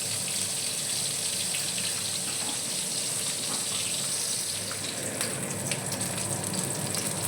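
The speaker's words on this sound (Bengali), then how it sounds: "আমি এরকম করে মাছগুলো সব ভেজে নেব।" Koi fish frying in hot oil, a steady dense hiss and crackle that holds at an even loudness throughout, close up with no talking.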